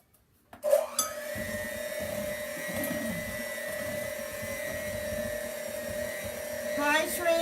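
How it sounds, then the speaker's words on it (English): An electric mixer starts abruptly and runs with a steady, close motorized whine while whisking banana bread batter with vanilla, a brief change in pitch near the end. "We're going to whisk this together."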